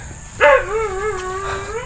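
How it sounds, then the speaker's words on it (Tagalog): A single dog lets out a sharp yelp that trails into a long, wavering howl-like whine, close to the microphone with no talk. "Ingay ng aso namin"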